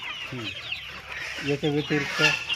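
Several Sonali-breed desi chickens cluck nearby in short bursts, a few separate calls then a quick run of clucks, over faint background noise.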